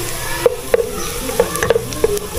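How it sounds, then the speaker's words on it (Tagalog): Chopped garlic sizzles steadily in a hot pan while a spatula stirs it, with several distinct scraping knocks spaced through the clip, heard close up and with no voices. "haluhaluhin lang po natin ang ating bawang mga kaluto. Yan, hintayin po natin maging brown yung ating bawang"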